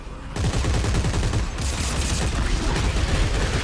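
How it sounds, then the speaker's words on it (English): Gunfire erupts in the Dead Space 3 co-op video game as a player shoots the Marker, with sustained rapid bursts of loud automatic weapon fire that start abruptly and continue throughout. "Yeah, I'm shooting it now."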